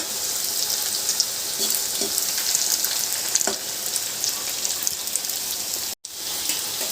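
Cauliflower florets deep-fry in hot oil for gobi manchurian, giving a loud, dense, continuous bubbling hiss close by that cuts out for a split second near the end.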